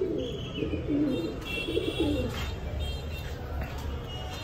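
Pigeons coo softly in repeated low warbling calls, with occasional chirps and faint speech in the background.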